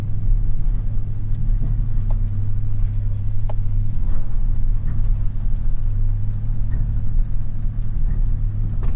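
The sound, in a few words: Toyota Tundra truck driving up steep off-road climb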